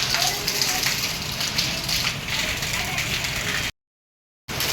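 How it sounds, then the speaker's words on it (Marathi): Steady, dense monsoon rain in Mumbai patters continuously for several seconds, then a brief gap of silence before it resumes. "परत पाऊस चालू झाला आहे"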